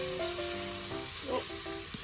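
Okonomiyaki batter sizzling as it hits a hot pan over medium heat, a steady close crackling hiss with faint scraping under it, no voices.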